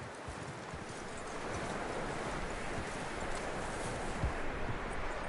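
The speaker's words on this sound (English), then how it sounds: "That looks like a decent horse." Horse hooves clip-clop steadily over ground in the Western video game Red Dead Redemption 2, with faint rustling in the background and no whinny evident.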